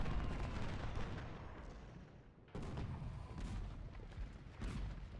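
Musket volleys and artillery fire from a Civil War battle in Ultimate General: Civil War, a continuous, rolling crackle of distant gunfire with heavier booms, steady throughout without talk.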